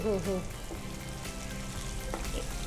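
Chopped drumstick leaves fry with onion in a pan, giving a steady close sizzle with occasional stirring scrapes throughout.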